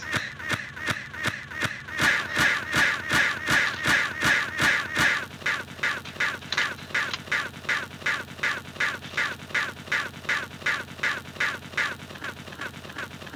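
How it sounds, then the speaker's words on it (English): Many crows caw in a rapid, steady, rhythmic chorus of harsh repeated calls inside the Garry's Mod game on a playable FNAF map, loud and continuous throughout with no talking. "Why are you spawning so many crows?"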